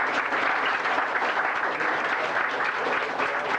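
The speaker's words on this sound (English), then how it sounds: "for that I think they deserve a round of applause." Steady applause from an audience aboard a Carnival cruise ship in 1995, a dense, even wash of clapping that holds at the same loudness for the whole stretch with no pauses.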